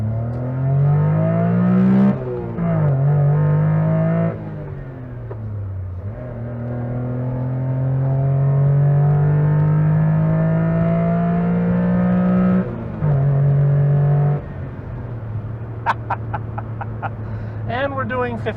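A 1993 Honda Beat accelerates hard from inside the cabin, its small engine droning steadily upward through the gears with brief dips at each shift, loud and close, with faint talk underneath.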